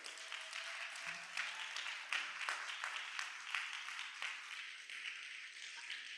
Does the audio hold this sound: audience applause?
yes